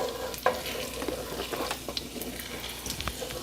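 Garlic sautéing in butter in a pan, stirred constantly: a steady soft sizzle with scattered utensil scrapes and clicks, close and fairly quiet, no talking.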